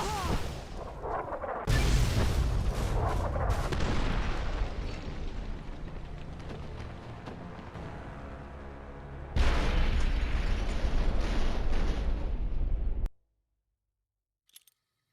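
Heavy artillery booms from a military base in the Fallout New Vegas video game, loud and sustained with dense rumbling blasts and a sharp renewed barrage before cutting abruptly to silence.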